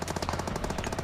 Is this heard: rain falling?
no